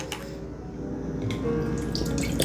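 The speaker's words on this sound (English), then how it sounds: "Put my cold water on in here" Cold water runs steadily from a kitchen tap in a continuous close splashing stream that grows slightly louder toward the end, with no talking.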